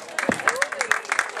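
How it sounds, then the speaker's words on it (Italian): A crowd applauds at an outdoor children's event in Marina di Camerota, Italy. Brisk, irregular clapping from many hands runs throughout at fair volume, with a voice talking underneath. "Applauso di Marina di Camerota, facciamoci sentire."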